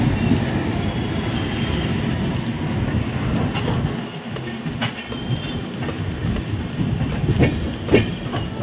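The Sealdah Rajdhani Express runs steadily on the rails after leaving Asansol, heard from inside an AC three-tier coach as a constant loud rumble with occasional clicks and rattles.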